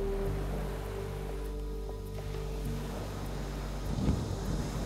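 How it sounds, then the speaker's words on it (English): Steady wind buffeting a microphone at a harbour beside a breakwater, a continuous low rumbling roar with a faint engine-like hum underneath, no talking. "It is a bit windy, so hopefully we'll get some cool waves coming over the water break there."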